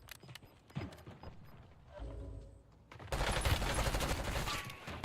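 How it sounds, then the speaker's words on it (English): SMG gunfire in the video game Warzone, quiet scattered shots at first, then a dense rapid burst of automatic fire swelling loud for the last two seconds, with mechanical clicks between. "What's the point with the SMG?"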